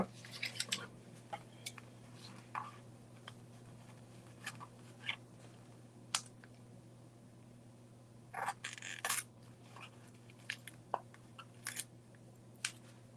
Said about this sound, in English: Let me get the scissors.